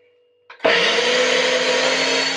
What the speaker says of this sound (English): I'm gonna put this on my thing and blend it up. It's gonna be really loud,